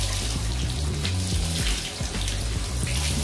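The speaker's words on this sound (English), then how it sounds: "And then we're just gonna keep rinsing them out." Running tap water rinsing tie-dye shirts in a sink, a steady close splashing gush with a low rumbling undertone throughout, no talk.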